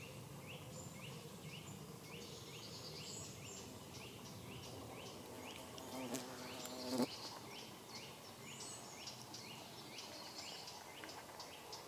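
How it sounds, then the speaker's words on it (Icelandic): Flies buzz around dog droppings on a walking path outdoors, a steady faint insect drone with repeated small pulses, heard up close with a brief louder rustle midway and no talking. "Og það eru strax komnar flugur til að næra sig og verpa."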